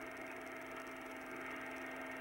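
An Air-Way Centurion vacuum cleaner pulls air off the floor in a 1999 dealer demonstration, giving a steady, even broadband whoosh with an underlying motor hum that holds constant throughout.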